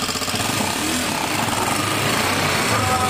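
Motorcycle engine running loud and close on a load of timber logs, a continuous rough rattling drone with a steady rapid pulse throughout.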